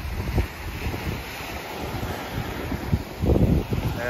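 Sea waves wash onto a Santorini beach under steady wind buffeting the microphone, with a louder surge of surf near the end and no talking.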